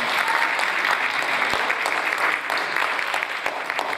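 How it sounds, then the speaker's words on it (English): A church congregation claps their hands together in a dense, lively burst of applause that stays steady and fairly loud for a few seconds. "Can you just clap your hands if you believe that?"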